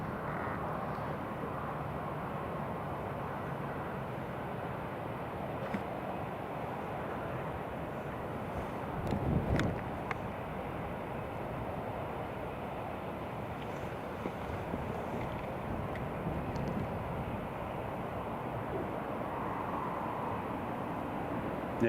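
KLM airliner rolling on the runway at Newcastle International Airport, a steady broad engine roar mixed with wind noise that holds at a constant level throughout, with a brief louder gust partway through.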